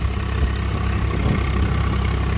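A tractor engine runs at a steady idle, a loud, continuous low rumble with constant vibration, close by and with no voices.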